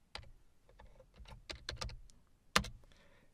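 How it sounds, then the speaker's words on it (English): Quiet keystrokes on a computer keyboard, irregular clicks in short bursts followed by one sharper key press, heard alone. "So I'll type dash file."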